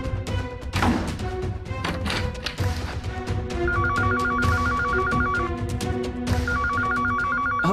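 A telephone rings in repeated electronic trills, short bursts separated by brief pauses, over background knocks and a few thumps indoors.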